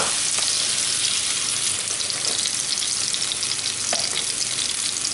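Salmon fishcakes and cherry tomatoes frying over gentle heat in a pan, a dense continuous sizzle close up, steady and loud with occasional faint crackles, no talking.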